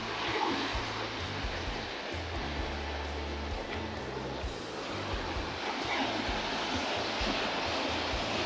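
Ocean surf at Huntington Beach rolls in as a steady broad wash, loud and continuous, with low rumbling wind noise underneath and no talk.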